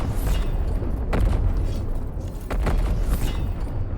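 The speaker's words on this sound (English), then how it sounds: "Loud explosions, dude." Heavy booming blasts from the Necron campaign of the video game Mechanicus 2, a dense low rumble with several sharp bursts around the first and third seconds, loud and continuous throughout.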